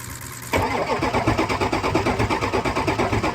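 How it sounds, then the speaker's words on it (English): A truck engine is cranked by the starter but does not start, a rhythmic chugging churn beginning suddenly after a short quiet moment and continuing with regular pulses to the end. "We're gonna crank on the truck"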